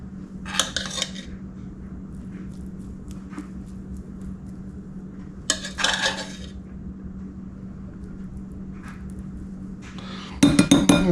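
Jasmine rice scooped into a bowl, heard as a few separate soft scraping and clinking bursts of a utensil against the dish, spaced apart with quiet gaps, then a brighter clatter of tableware at the end.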